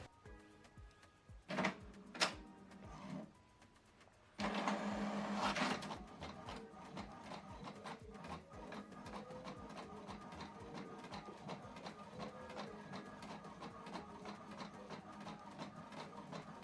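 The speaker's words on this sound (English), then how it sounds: "Print test page, select print test page," An HP Deskjet printer printing a test page begins with clunks and a short burst of paper feeding, then settles into a steady mechanical whir with rhythmic print-head passes, close and moderately quiet.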